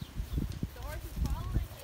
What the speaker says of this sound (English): The horse is following you.